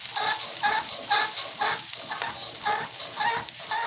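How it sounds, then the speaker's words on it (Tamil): Rava kichadi being stirred in a pan with water just added, a close, steady run of scraping strokes with soft sizzling and bubbling, repeating in a regular rhythm with no talk. "அப்படியே கிண்டிகிட்டு இருக்கேன்."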